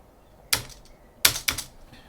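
Three sharp key taps on a computer keyboard, one isolated and then two close together, as commands are entered into a terminal in a quiet room.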